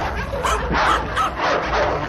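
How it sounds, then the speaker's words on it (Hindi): A tied-up dog barks and whimpers in a horror animation, giving loud, close yelps and whining cries in quick succession for about two seconds. "वो बेचारा कुत्ता दोपहर से लेकर रात तक वहीं भूखा प्यासा बंधा हुआ रोता रहा, भौंकता रहा।"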